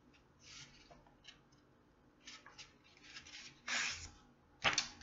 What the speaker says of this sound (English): Now I fold the yellow paper in half also.